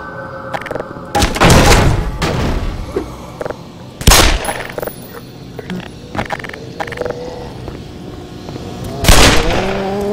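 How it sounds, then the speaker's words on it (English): Grenades exploding in the video game Black Mesa: several loud, sharp blasts spaced a few seconds apart, each followed by rumbling debris and scattered game effects in between. "Those are just grenades"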